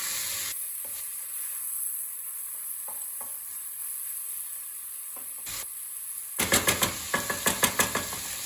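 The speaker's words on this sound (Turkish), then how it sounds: "Otumuzu eklemeden bir iki dakika kavuralım." Potatoes with garlic sauté in a pot for a seasonal stew, giving a steady soft sizzle followed by a run of sharp scraping stirs and clinks near the end, close and without speech.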